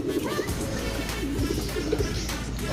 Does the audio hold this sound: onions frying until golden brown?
no